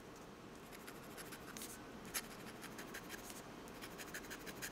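Parker 51 fountain pen with a ruthenium nib gliding over paper, close up, giving a soft, faint, continuous scratchy friction with light strokes and no talk.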